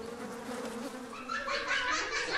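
Bees buzz around flowers with a steady, close insect drone that rises and grows busier toward the end, heard alone without voices.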